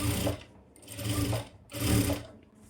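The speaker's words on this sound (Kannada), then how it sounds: "ನಿಧಾನಕ್ಕೆ ನೋಡ್ಕೊಂಡು ನೋಡ್ಕೊಂಡು ಕ್ಲೀನಾಗಿ ಸ್ಟಿಚ್ ಮಾಡ್ಕೊಳ್ಳಿ" A sewing machine stitching a fall onto a saree, running in three bursts of rapid mechanical whirring and clatter separated by short pauses, close and clear with no talking.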